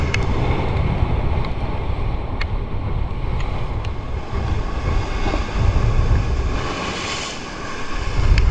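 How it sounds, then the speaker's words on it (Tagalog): Sea waves slosh and splash against a small boat in open water, a steady, loud wash of surf mixed with rushing wind buffeting the microphone, with no talking. "Binasa pa tayo ng alon."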